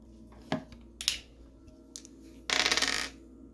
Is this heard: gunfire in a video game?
no